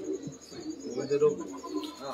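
Pigeons coo softly and close by in a brief, faint burst, mixed with a little chirping. Low background talk can be heard behind them.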